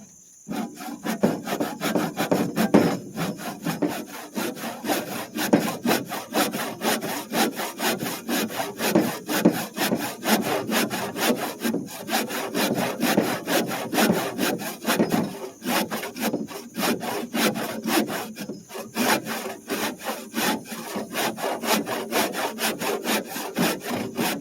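A hand saw cuts through timber for a post-and-beam sawhorse in steady, rhythmic back-and-forth strokes, close and loud, continuing for a long stretch without voices.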